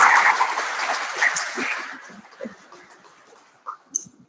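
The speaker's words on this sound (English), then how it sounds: "I think that presentation deserves another big round of applause." An audience at a public dialogue on Nigeria's rising debt gives a round of applause after a presentation, dense clapping that is loud at first, then thins out and fades over about two seconds.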